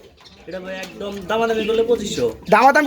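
Pigeons at a breeder's loft give soft, rolling coos in overlapping phrases, close and fairly loud, while someone talks over them.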